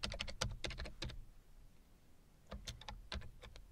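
Typing on a computer keyboard, bursts of quick close clicks, a pause, then another flurry of keystrokes, quiet and alone.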